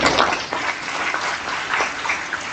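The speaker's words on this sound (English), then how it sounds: "I think he deserves a big round of applause." Audience in a career-opportunities seminar hall giving a big round of applause, a thick, even roar of many hands clapping at once, loud and sustained without pause.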